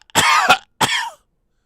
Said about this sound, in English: That's one way you can cough.